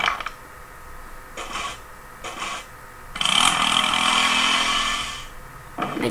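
In a prison escape game, a drill whirs with a short stuttering start, then one sustained grinding burst of about two seconds, followed by a brief final spurt.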